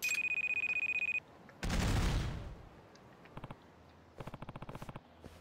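A shrill electronic alarm in the video game Judgment rings in fast pulses for about a second, then a burst of noise and more rapid pulsing tones follow.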